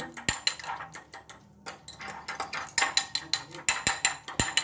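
A fork beating eggs in a bowl, salted before frying rice: rapid rhythmic clinking taps, close and steady, with a short pause partway through before the whisking resumes.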